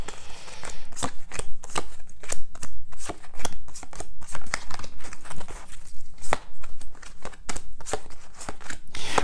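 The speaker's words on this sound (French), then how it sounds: "je remets toutes les cartes à l'endroit" Tarot cards are handled and flipped face up in a dense run of quick, crisp papery snaps and shuffling rustles, close and fairly loud, with no talk.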